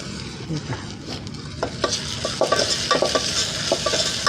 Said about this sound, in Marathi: टोमॅटो पण परतून घेऊ चांगला आपण